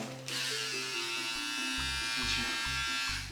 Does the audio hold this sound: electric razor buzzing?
yes